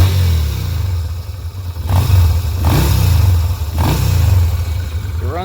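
A Yamaha motorcycle that sat unused for 10 years idles loudly and close, its low throbbing note swelling in a few gentle rev blips and then easing back, running a little low and uneven.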